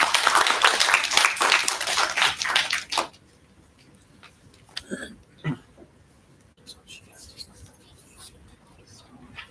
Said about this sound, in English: Round of applause for her, please.